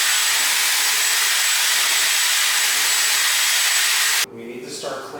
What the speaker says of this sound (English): Bay has been using the drill brush, handy dandy drill brush